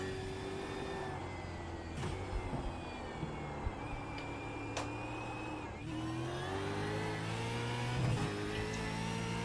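A race car accelerating on track in iRacing sim racing, a Supercars practice session, with a steady high engine whine climbing through gears, close and continuous with short shifts and brief dips.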